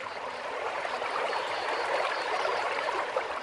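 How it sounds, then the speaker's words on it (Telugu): The Tungabhadra river babbles and rushes in a continuous, fairly close stream of water with no voices. "చటక్కున తుంగభద్ర గలగలమంటుంది."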